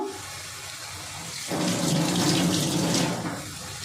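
Semolina-and-vegetable snacks frying in hot oil. A soft background gives way to a loud, steady, close sizzle that starts partway through and keeps going to the end.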